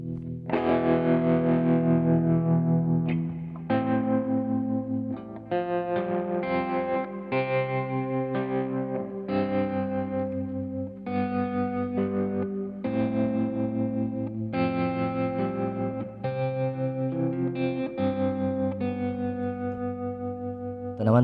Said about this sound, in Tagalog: Pag Tank G lang yung gagamitin natin. Tapos lagyan natin ng overdrive.